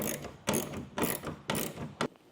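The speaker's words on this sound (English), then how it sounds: "I found it easier to just use a socket wrench" A socket wrench ratcheting while tightening bolts on a Yakima OverHaul HD truck bed ladder rack, four quick bursts of close, fairly quiet clicking in an even back-and-forth rhythm.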